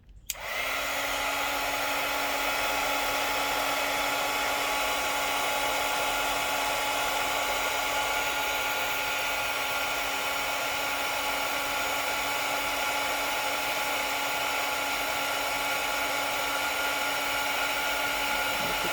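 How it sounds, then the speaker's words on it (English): A handheld heat tool blows hot air to melt craft material, a steady high whine with a constant hum running unbroken for the whole clip, moderately loud and close with no talking. "I'm going to go ahead and heat this up on camera, so it's going to be a whole bit of noise for a second"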